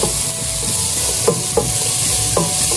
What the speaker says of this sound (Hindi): और 2 शिमला मिर्च डाल लें दरमियाने साइज की। इसको हम भून लेंगे।